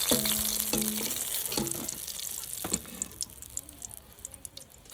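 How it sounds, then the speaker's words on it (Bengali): Eggplant slices fry in hot oil in a pan with a steady close sizzle and crackle, with a few utensil clatters at the start. "এইভাবেই আমি সব বেগুন ভেজে নেবো"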